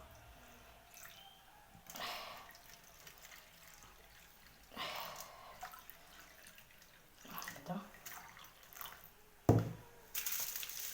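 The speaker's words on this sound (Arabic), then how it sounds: "ندير له ماء" Water is poured into a cooking pot while making a chicken roulade, heard as several short splashing bursts spread over the clip, with a person talking quietly between them.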